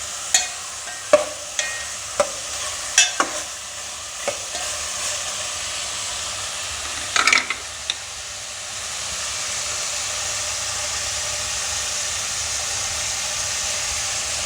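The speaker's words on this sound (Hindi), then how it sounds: "बस इस तरीके से हम इसको हल्का सा प्याज के साथ सौते करेंगे" Meat sautés lightly with onions in a pan for bhindi gosht, a constant close sizzle with a few sharp spatula clinks and scrapes early on, the frying swelling slightly louder toward the end; no one speaks.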